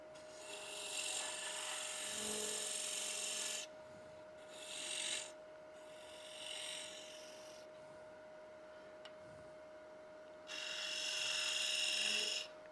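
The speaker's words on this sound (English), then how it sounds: "I can use this box scraper to do that." A box scraper cuts wood in short rasping strokes, several separate bursts of scraping with quiet pauses between them, close and fairly loud, under a faint steady hum.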